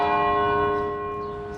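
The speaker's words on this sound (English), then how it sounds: "Church bells tolled for the victims." A church bell tolls with a long, ringing hum of overtones that slowly fades away. No voices are heard.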